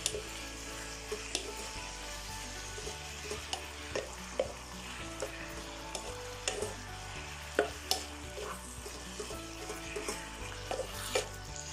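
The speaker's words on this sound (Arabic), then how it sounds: "أضع المقلاة على النار، أضع القليل من الزبدة مقدار ملعقة كبيرة، وأضيف قطع الدجاج" Chicken pieces fry in butter with a steady, busy sizzle and scattered pops and crackles throughout, no voices.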